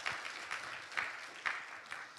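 A church congregation at a Korean Friday night prayer service claps together in an even, rhythmic beat about twice a second, fairly soft and distant.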